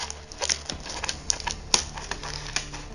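Several sharp snips and clicks of scissors cutting, irregular and fairly close, with faint background noise and no speech.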